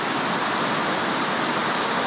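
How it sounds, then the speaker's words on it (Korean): An artificial waterfall with greenish water pours in a continuous, even rush of white noise, close and loud with no break and no voices. "인공 폭포지만 멋있어"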